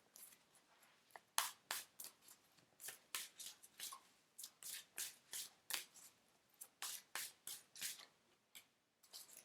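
A deck of chakra cards is shuffled by hand in a quiet room, a close series of crisp riffling flutters repeated rhythmically for several seconds.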